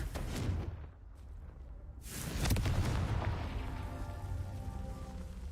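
Spell blast in the video game Hogwarts Legacy, a sudden burst followed by a rumbling boom that decays slowly, moderately quiet, with a softer crackling impact just before it.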